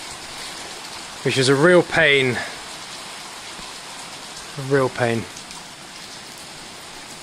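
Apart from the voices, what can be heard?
heavy rain falling on a timber frame build site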